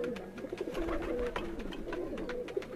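A Lakhi pigeon hen and her Ferozpuri mate coo in a rooftop loft, giving soft, continuous throaty murmurs with a few sharper clicks close by.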